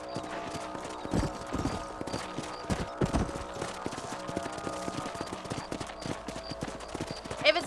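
Horse hooves clopping at a riding pace in Red Dead Redemption, repeated even hoofbeats under outdoor game ambience with occasional sharper thuds, no voices over them.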